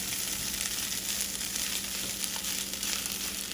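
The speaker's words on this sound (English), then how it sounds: "I'm going to flip it." Bacon fried rice sizzles and crackles steadily in a hot pan, a constant bright frying hiss with faint scraping as the rice is flipped, close and without talk.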